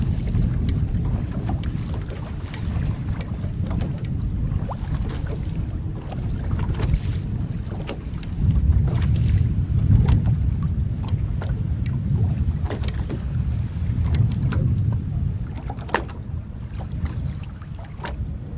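A fishing boat heads out into deep water on a delta while chasing striped bass, its low motor rumble running steadily under gusts of wind buffeting the microphone.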